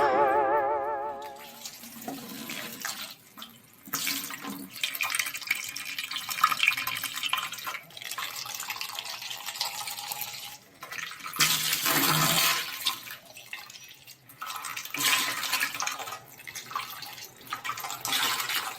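Water sloshes and splashes onto the ground after sweeping, in a series of wet gushes and drips of varying strength, fairly close, with no voices.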